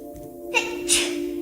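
A small child sneezes once, close and abrupt, over a steady electrical hum, with a soft breathy catch just before it.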